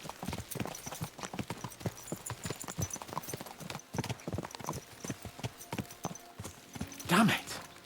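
Horses in the video game Kingdom Come: Deliverance II gallop with rapid, close, loud hoofbeats throughout, and a brief whinny comes near the end while someone talks over them.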